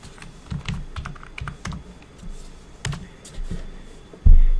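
Close, clattery typing on a computer keyboard comes in irregular bursts of keystrokes with brief pauses, ending in a heavier thump, and no one speaks.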